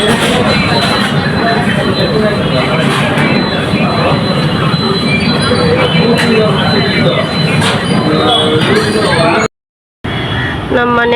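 A train rumbles steadily at an Indian railway station, with a loud, continuous roar and faint wheel squeal, and voices murmur in the background before a brief dropout near the end.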